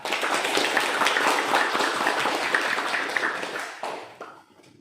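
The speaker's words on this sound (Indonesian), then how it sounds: "saya minta tepuk tangan dari ibu semua untuk SMP kita" An audience of mothers at a junior high school gathering applauds: a dense, steady wash of clapping that tapers off sharply near the end, leaving near silence.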